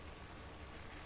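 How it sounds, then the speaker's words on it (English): Steady rain falls in Ark Survival Evolved on the Scorched Earth map, a dense, even hiss with no talk over it. "It's still raining."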